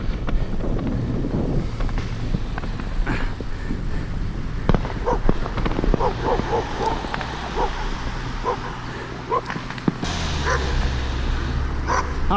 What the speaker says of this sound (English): I thought that dog sounded like it was getting closer.